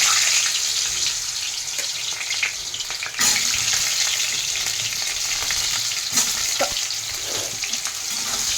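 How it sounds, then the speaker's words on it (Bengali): Potatoes fry in hot salted oil with a loud, continuous close-up sizzle. Occasional clinks and scrapes of stirring break through, and a sharp burst comes partway through. "আলুগুলো ভালো করে ভেজে নেবো।"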